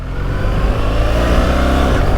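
A BMW R1300GS motorcycle accelerating on a test ride, a loud, close engine roar that holds steady and strong through the whole short stretch.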